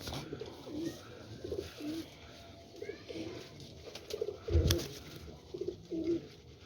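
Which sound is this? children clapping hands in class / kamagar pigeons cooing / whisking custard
kamagar pigeons cooing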